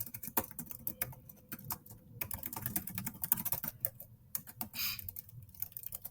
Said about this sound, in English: So then you can just type in a subject line.